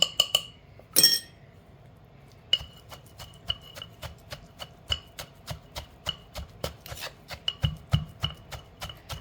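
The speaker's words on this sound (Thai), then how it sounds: "โขกให้เข้ากันค่ะ" Tamarind chili paste for a galangal chili dip is pounded in a mortar with a pestle, producing a steady run of sharp, close knocks about twice a second after a brief scrape and a few clinks at the start, with no voices.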